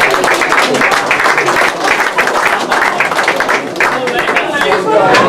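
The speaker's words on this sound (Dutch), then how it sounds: "Een applaus voor deze winnaar" Crowd applause for the winner at a pearkekeatsen ball-game event in Tytsjerk, a steady dense clapping from many hands throughout, with chatter mixed in.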